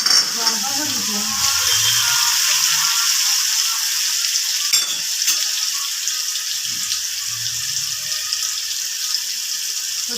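Tomatoes are added to a pan and fry for Gujarati sabudana-potato khichdi, giving a steady soft sizzle with some water-like hiss. Occasional low voices sound faintly underneath.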